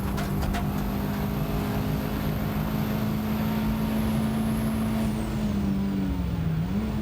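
A Rover Turbo Cup race car at Spa in 1995 braking and shifting down to third, a loud sustained engine drone that dips in pitch near the end as the revs fall, heard alone without talk.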